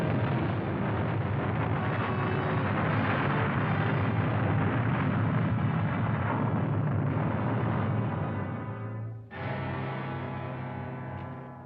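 A submarine fires a torpedo salvo and a massive explosion follows: a loud, sustained roaring rumble that dips sharply near the end and then swells again. No voices are heard.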